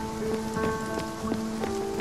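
Rain falls at night in the video game Spiritfarer, a steady patter of drops on surfaces with soft, gentle tonal chimes drifting beneath it, and no talk.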